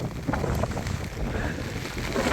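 Steady, blustery wind rushes and buffets the microphone throughout on a rainy, misty hill near Chandwad, a dense, unbroken roar with no clear voices.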